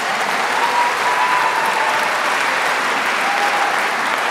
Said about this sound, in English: By applause, can I hear the parents?